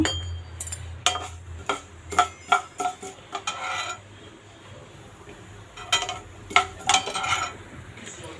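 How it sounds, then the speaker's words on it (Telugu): Cumin, urad dal and mustard seeds fry in hot oil in a pan for a tempering, with a low sizzle under repeated bursts of spoon clinks and scrapes against the metal, close by and with no talking. "నేను ప్యాన్ పెట్టేసుకుని ఆయిల్ వేసేసుకున్నాను ముందుగా పోపులు వేసుకుంటున్నాను"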